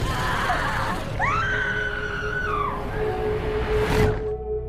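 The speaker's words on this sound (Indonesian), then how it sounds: "Seorang wanita yang juga pernah ditarik di tangga yang sama, berteriak minta tolong sebelum akhirnya terjatuh." A woman's high scream for help in a horror story, a loud drawn-out wail rising and falling over a steady eerie rumbling drone, ending with a sharp burst of noise.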